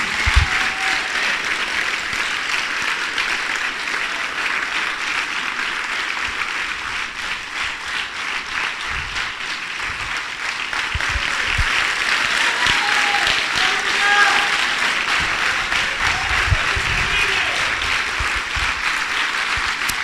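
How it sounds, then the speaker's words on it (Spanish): Congregation at a Sunday church service applauding in praise of God, a dense, sustained wash of clapping lasting the full stretch, steady and fairly loud with a slight swell toward the end. "Darle a Dios un aplauso de júbilo."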